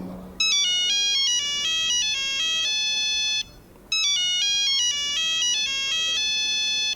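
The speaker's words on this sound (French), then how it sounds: "Mon téléphone." A mobile phone ringtone playing a bright electronic melody of quick stepped notes, loud and close. The phrase runs, pauses briefly, then starts over.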